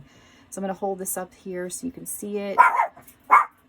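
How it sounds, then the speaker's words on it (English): A dog barks in two short, sharp bursts close by, right after a stretch of steady talking by one person indoors. "I hope the dogs don't bark and interrupt me"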